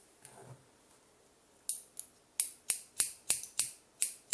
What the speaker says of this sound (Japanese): ハサミの切り口をちょっとずらしてこういう感じで入れてます。